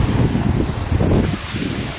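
Ocean waves and wind at the shore, a near, rumbling wash of surf with gusty wind buffeting the microphone and no speech.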